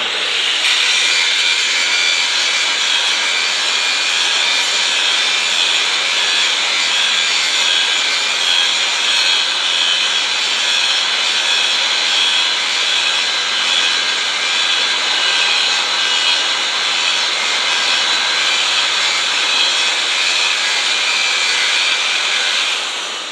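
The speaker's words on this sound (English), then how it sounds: "it's able to cut through the metal much faster" A power tool cutting through metal while running on a Milwaukee Roll-On power station, a loud, steady, high-pitched grinding whine that holds without a break from start to finish.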